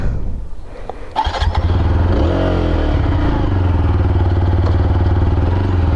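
A TVS Apache RTR 4V motorcycle starts up after a brief click, its engine catching and then settling into a loud, close idle with rhythmic exhaust pulses and light revving.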